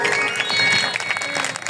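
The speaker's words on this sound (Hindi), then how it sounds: "हैंड तालियां तो सभी बजा दें।" An audience at a medical doctors' antakshari singing competition applauds, a dense, steady patter of hand claps that holds throughout, with no talking over it.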